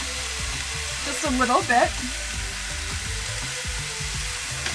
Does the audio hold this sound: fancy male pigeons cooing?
no